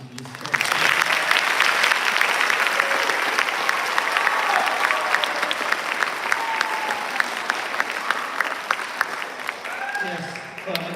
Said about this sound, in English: I just need one more round of applause for all the band performances you just heard